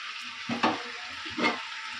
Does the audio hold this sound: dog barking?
no